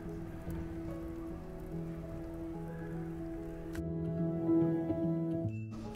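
Steady rain falls on a home vegetable garden, a continuous close patter on soil and leaves with a low constant hum underneath, growing slightly louder toward the end.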